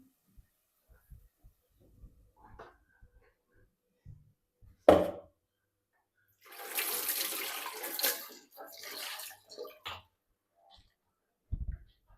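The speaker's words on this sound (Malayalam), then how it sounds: "കുറച്ച് വെള്ളവും കൂടെ ചേർത്ത്" Water pours into a pan of ground green mango and coconut paste in a kitchen, a short soft splashing trickle lasting a couple of seconds amid faint clinks and handling noises.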